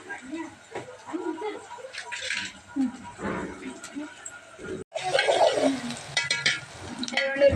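Brinjal and drumstick pieces fry and get stirred in a pan, giving a steady soft sizzle with scraping stirs that turns louder and denser in the second half, while a person talks over the cooking.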